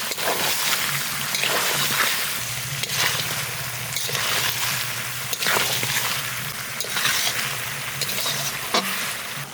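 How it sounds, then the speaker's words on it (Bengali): Hot water goes into a pot of browned, braised chicken curry, setting off a loud continuous hiss and bubbling sizzle with sloshing liquid, close and steady. "এইবার গরম জল দিয়ে দেবো"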